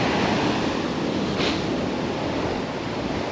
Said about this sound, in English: Could just do with this wind dying off,